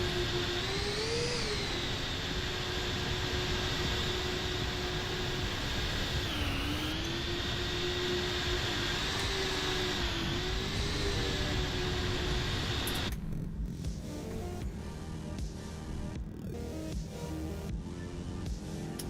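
Airbus A380 jet engines spool up for takeoff in a flight simulator game, a steady whining roar with rising and falling tones that later gives way to rougher rumbling.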